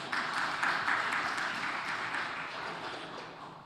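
Church congregation clapping for the choir at a service, a soft, steady patter of many hands heard from a distance that tapers off slightly toward the end.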